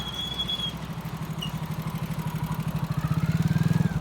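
Motorcycles cross the Koiya bridge over the Kali Gandaki, a close engine putting with a rapid throbbing beat that grows louder, and a faint high squeal appears early on.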